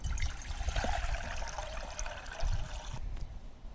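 Water pours from a container into a cooking pot at a camp, a close, steady splashing stream that stops abruptly near the end.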